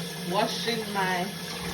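Water runs steadily from a kitchen tap while onions and seasoning vegetables are washed in the sink, a close, continuous splashing flow that lasts the whole moment.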